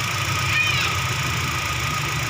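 A car engine idles steadily during an alternator test, giving a continuous loud, even hum with a low rumble and high whine and no breaks, heard alone.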